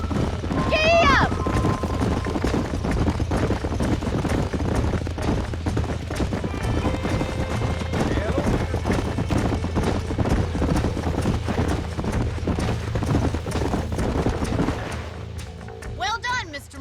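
Horses in the video game Red Dead Redemption gallop with rapid, continuous hoof clip-clops, loud and close, with a neigh near the start and another whinny at the end as the galloping fades.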